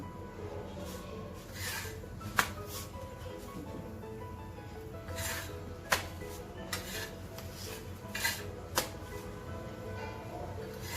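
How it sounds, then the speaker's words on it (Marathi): A chapati being roasted on a pan, with soft rubbing and scraping against the pan and a few sharp clinks and taps over a low steady background. "आता ही साईड थोडी थोडी कच्ची ती आपण भाजून घेऊ"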